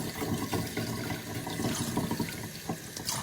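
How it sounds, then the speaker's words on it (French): Oil poured into water in a basin, giving a steady splashing, gurgling pour that runs the whole time at close range, with no voices. "je te montre bien comment on verse l'huile"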